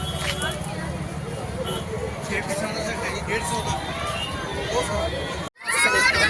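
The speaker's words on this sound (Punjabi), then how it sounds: "ਪੂਰਾ ਭਰ ਗਿਆ ਮੇਲਾ ਦੇਖੋ ਕਿੰਨੀ ਭੀੜ ਹੋ ਗਈ" Dense crowd hubbub at a Punjabi village fair, a continuous busy babble of many voices with nearby talk mixed in, briefly cutting out before resuming louder.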